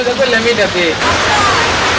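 Heavy rain pours down in a village setting as a steady, loud broadband hiss that swells and fills the second half, with a voice talking over the first half.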